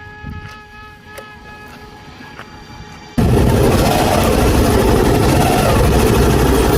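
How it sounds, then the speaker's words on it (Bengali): A motorbike engine hums faintly at first, then jumps to a loud, steady rumble with rushing noise as the bike gets underway on a village road. "আমি যাচ্ছি বাইকে"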